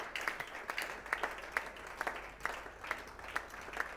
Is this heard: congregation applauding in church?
yes